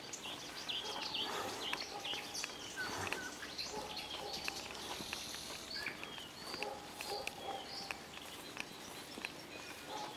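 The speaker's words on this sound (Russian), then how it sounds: "Вот соловей поет как" A nightingale sings outdoors in a birch woodland beside a small brush fire, its chirps and warbled phrases coming in frequent bursts over steady ambient noise, with faint rustling and possible footsteps nearby and no talking.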